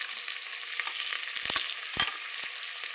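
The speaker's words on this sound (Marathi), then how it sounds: "एकदा सगळं टाकायचं आणि चांगलं तेलात परतायचं बघा." Tomatoes and potatoes fry in oil with a steady, close sizzle. A few soft stirring scrapes and clinks break through the hiss, and no one speaks.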